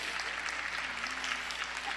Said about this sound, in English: Give Rebecca another round of applause